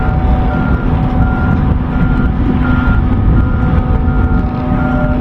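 Reversing beeps from a travel lift at a boat yard, a loud, steady repeating beep over a constant engine drone, close and continuous with no talking.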